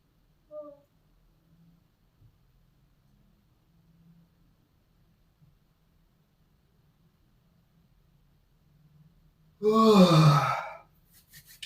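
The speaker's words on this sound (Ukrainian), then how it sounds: "Позіхаємо." A person yawning during a slow stretching routine, one loud, drawn-out breathy yawn about a second long, alone after a mostly quiet stretch with a faint earlier breath.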